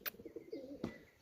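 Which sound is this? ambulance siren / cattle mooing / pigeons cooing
pigeons cooing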